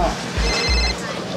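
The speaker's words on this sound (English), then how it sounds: "Hold on, my phone a ring." A telephone rings in a hip-hop and dancehall track, the bright repeating ring sitting inside the music and vocal backing for about a second.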